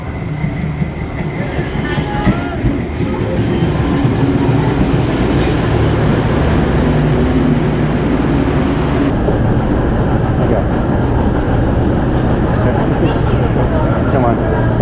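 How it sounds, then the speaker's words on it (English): A train rumbles past close by, loud and continuous with rattling wheels and clatter throughout, while people talk over it. "I see the train. I see the train."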